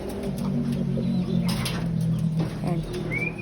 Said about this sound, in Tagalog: Ito yung mga ibon nyo.